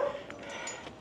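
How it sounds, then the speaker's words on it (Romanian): Local dogs in rural Costa Rica bark and whimper at a passing cyclist, a short, moderately close burst of yips over steady outdoor background noise. "Niște căței de-ai locului mă latră."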